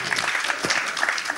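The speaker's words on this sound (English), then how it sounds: "Why don't we give them an applause?" An audience at an afternoon panel discussion breaks into brief, dense applause for the speakers, a short steady burst of clapping.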